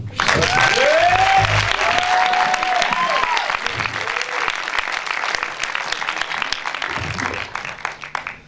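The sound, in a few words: concert audience applauding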